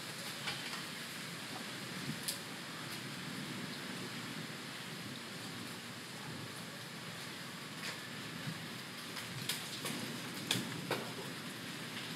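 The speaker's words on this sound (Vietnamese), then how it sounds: "Ngoài trời thì mưa rồi" Rain falls outside while listeners stand under cover, a soft, steady patter with occasional sharper drips, faint and distant with no voices.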